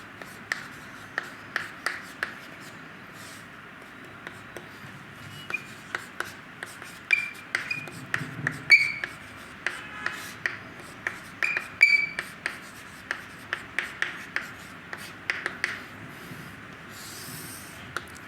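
Chalk taps and scratches on a classroom board during a physics lecture on Huygens' wave theory, in an irregular string of sharp, close strokes with short squeaks over a quiet room, with no talking.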